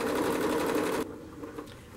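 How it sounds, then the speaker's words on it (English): Sewing machine stitching fabric along piping to a corner of a T cushion, a rapid steady whir for about a second, then stopping to quieter handling noise. "And sew to the first corner."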